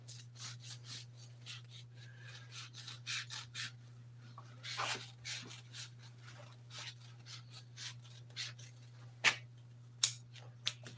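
Scissors or a blade cutting upholstery cover material for an old Toyota seat, a quiet run of repeated rasping snips and rubbing strokes over a steady low hum, with a few sharper clicks near the end.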